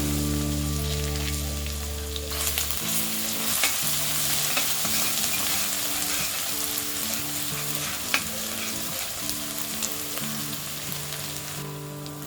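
Two tablespoons of oil and a tablespoon of crushed garlic fry in a kadhai, giving a steady, bright sizzle with scattered pops and spatters and light stirring scrapes. A low tonal hum sits beneath, and there is no talking.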